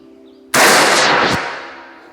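One sharp, loud gunshot-like report from an air rifle bursts out suddenly, then a rushing noise lingers and fades over about a second.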